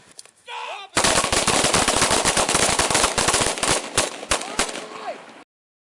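A rapid, loud volley of gunfire as seven police officers shoot at an armed man in west Toledo, dozens of close overlapping shots for several seconds, preceded by a brief shout.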